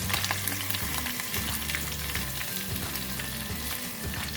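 Pieces of stingray deep-frying in hot oil with crispy chilli make a dense, continuous bubbling sizzle, loud and close, with soft scraping and knocks as the pieces are scooped from the oil.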